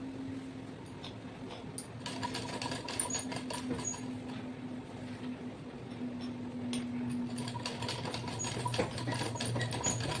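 A sewing machine stitches a lungi with a steady, fast mechanical whir and rapid ticking needle chatter that runs throughout, fairly faint and close.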